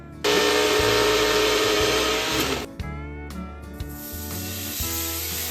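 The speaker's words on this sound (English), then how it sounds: "we're putting the Oreos in the blender." A blender crushes Oreo cookies with a loud, whirring roar, cuts out briefly, then starts up again with a short, choppy burst before running steadily.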